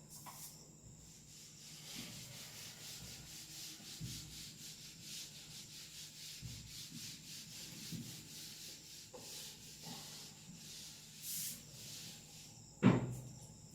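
Writing is rubbed off a board during a 12th-class chemistry lesson, a soft continuous rubbing and wiping that runs throughout, ending with a single sharp knock near the end.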